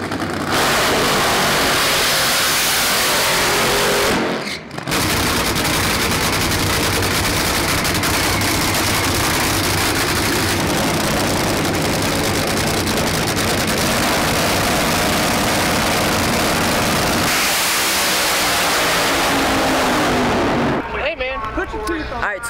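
Drag racing dragster engine at a drag strip: a very loud, crackling, explosive roar that runs almost continuously with one brief break, then drops off suddenly near the end.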